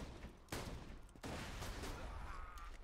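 Shock weapon gunfire in Borderlands 2 crackles in bursts, with two sharp loud shots standing out over a dense stream of rapid firing and game noise.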